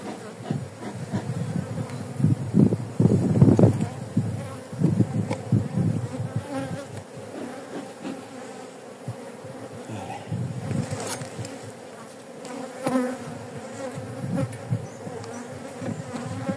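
Honey bees swarm and buzz densely around a hive while it is being smoked, a close, restless drone that swells and thins as insects fly past.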